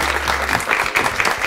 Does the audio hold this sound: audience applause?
yes